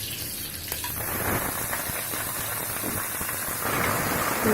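Sliced onion and capsicum sauté in a hot pan for prawn thokku, making a constant rain-like sizzle and crackle close by that grows a little louder toward the end.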